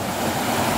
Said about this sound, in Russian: Ух, мощный поток.